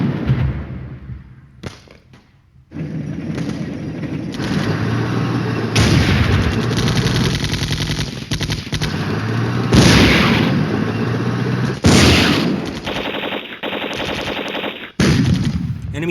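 Machine-gun bursts and heavy artillery booms from the war game Flashpoint Campaigns Red Storm, loud dense firing in repeated waves with deep thuds and short pauses between volleys.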